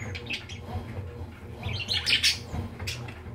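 Budgerigars chirp and squawk in a close, busy cluster of bright calls, with sharper squawks bunched toward the middle.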